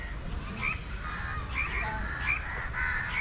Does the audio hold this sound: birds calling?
yes